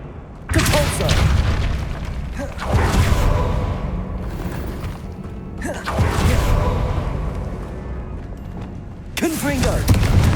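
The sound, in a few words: Depulso spell blast in Hogwarts Legacy video game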